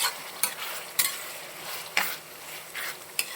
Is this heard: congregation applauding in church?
no